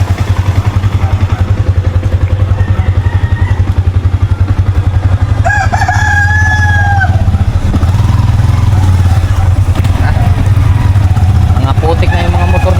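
A mud-caked motorcycle idling loud and close with a fast steady chugging throb throughout, while people talk over it and faint higher sounds come and go.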